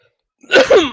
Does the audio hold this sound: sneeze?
yes